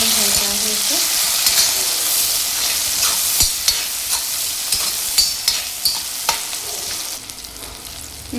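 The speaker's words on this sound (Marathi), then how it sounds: "टोमॅटो टाकून घेत आहे इथे आणि टोमॅटोला छान फिरवून घ्यायचं आहे इथे" Tomatoes sizzle loudly in a hot onion, garlic and cumin paste, with a spatula scraping and stirring in repeated close strokes over a steady frying hiss.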